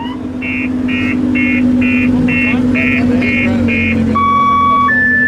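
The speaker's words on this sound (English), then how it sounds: "That R8 is setting off that alarm." A car alarm, set off by an Audi R8, blares its repeating pulsed tone eight times, then shifts to a steady beep, over loud idling supercar engines and crowd noise outdoors at a tunnel.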